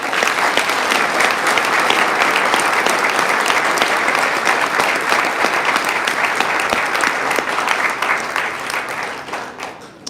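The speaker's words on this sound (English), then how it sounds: "may we one more time have a round of applause for law enforcement" An audience at a swearing-in ceremony gives a sustained round of applause for law enforcement, dense clapping from many hands held at full strength for several seconds before thinning and fading out near the end.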